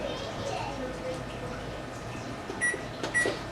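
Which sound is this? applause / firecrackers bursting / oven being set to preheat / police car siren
oven being set to preheat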